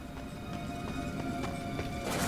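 Faint horse hooves clip-clop in a steady rhythm over a low ambient bed in the video game Darksiders.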